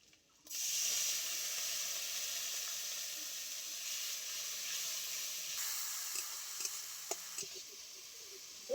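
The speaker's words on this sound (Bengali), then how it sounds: "দিয়ে দিচ্ছি আমি অল্প মশলা বাটা জল।" Spice paste thinned with water hits a hot pan while cooking green jackfruit with fish, bursting into a loud, steady sizzle that holds for several seconds, with a few soft stirring clicks near the end.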